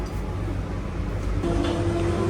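A London Underground Central Line train running, with a steady loud low rumble and rolling rail noise throughout and a sustained whine rising partway through.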